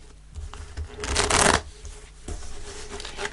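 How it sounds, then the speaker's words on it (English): Tarot cards are shuffled and laid out on a table, with soft slides and taps building to a dense, riffling shuffle in the middle, then lighter card placements, close and clear with no talking. "And we'll just clarify the cards on the table."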